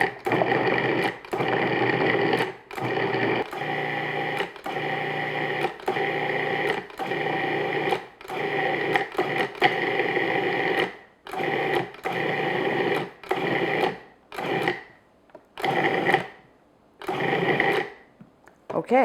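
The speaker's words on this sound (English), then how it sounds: "the sound of the food processor changes when it starts to clump together" Food processor working butter into flour for tart dough, a loud, steady motor whir cut into repeated pulses with short gaps, close by.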